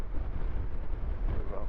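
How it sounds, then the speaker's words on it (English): Strong wind buffets a microphone while riding a Honda NC750X DCT motorcycle on a gusty day, a loud, continuous low rumbling roar with no pauses. "It's proper windy today."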